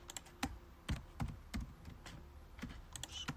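A computer keyboard is tapped to enter answer options for a Kyrgyz school quiz game, giving a handful of separate, fairly quiet keystrokes spaced irregularly over a soft background.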